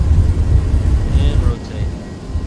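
Airbus A319 with IAE engines at full takeoff thrust in a flight simulator, a loud low roar and rumble that eases slightly partway through.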